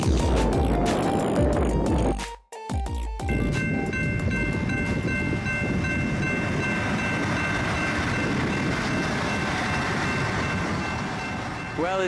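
A train on the Jerusalem–Jaffa Railway rumbles along the track with a steady clattering roar, briefly interrupted, then continuing loud and close with a faint high squeal.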